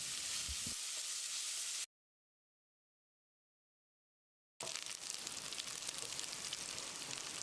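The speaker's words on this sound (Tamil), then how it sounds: "ஒரு பெரிய வெங்காயம் பொடியாக நறுக்கினது. வெங்காயத்தை பொன்னிறமாக வதக்கிடலாம்." A large chopped onion with curry leaves sizzles steadily in a pan of hot oil for mushroom curry, a close, even frying hiss broken by a few seconds of silence.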